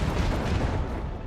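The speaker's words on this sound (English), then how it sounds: "Macro cannons, volley!" Macro cannon volley from a warship in the video game Warhammer 40K: Rogue Trader, a dense, rumbling boom of massed cannon fire rolling low and heavy, fairly quiet and continuous, with no voices.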